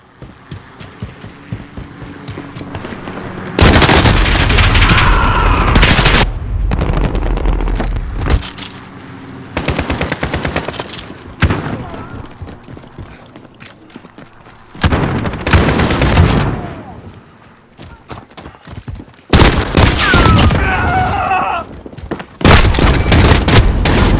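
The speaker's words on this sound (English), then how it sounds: "Cruise missile, go for launch." A video-game cruise missile strike booms and roars in heavy, loud bursts, separated by quieter gaps filled with crackling gunfire and rumble.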